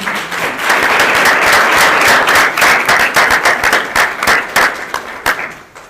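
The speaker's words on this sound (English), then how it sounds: "I'm going to ask you all to give our council a round of applause," A room at a Markham regular council meeting gives the council a round of applause, loud and close, sustained at first and then thinning into individual distinct claps as it tapers off.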